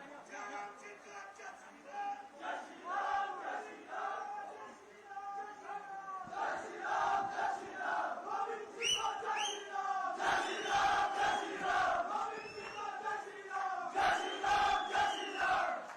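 A rally crowd for a minister's address roars and chants loudly in sustained waves of many voices, with no distinct clapping standing out.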